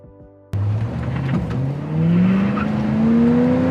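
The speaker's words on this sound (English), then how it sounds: "Pontiac Firebird Trans Am." A 1984 Pontiac Firebird Trans Am engine bursts into a loud, close revving, its pitch climbing steadily as it accelerates, with a brief tire squeal in the mix and no talking.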